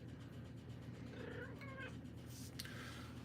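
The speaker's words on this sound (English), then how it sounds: "Oh, that's my cat." A pet cat meows a couple of times, faint and close indoors, over a quiet low hum with no talk.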